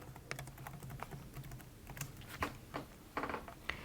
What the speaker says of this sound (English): type in the text that we want to use